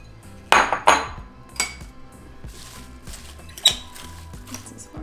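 A carne asada marinade of lime and orange juice is mixed in a bowl, giving close, irregular clinks and knocks of a utensil against the bowl over a quiet background.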